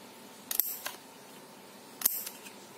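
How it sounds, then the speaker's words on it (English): Two quick, crisp snips of scissors cutting slits in cardboard, about a second and a half apart, close and fairly faint against a quiet room. "Now I'll just cut slits on this"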